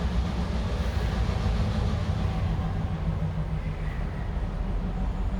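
A train rolls past nearby as a steady, loud low rumble that holds throughout, heard during an after-work yoga session.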